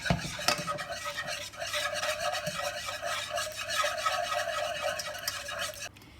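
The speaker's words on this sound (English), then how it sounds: "Now I'm adding an egg yolk to it. I'm quickly going to whisk." A whisk stirs an egg yolk into Mornay sauce in a pan, giving a steady, soft scraping and swishing texture that runs for about six seconds without a break, faint and close, with no voices.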